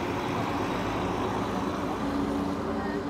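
A car's engine and road noise hum continuously from inside the moving vehicle on a ride near Nazca, Peru, a low, steady drone.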